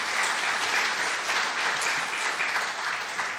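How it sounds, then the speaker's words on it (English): An audience claps for candidates at a district attorney debate, a dense steady round of applause from a full room lasting several seconds. "Round of applause for everybody"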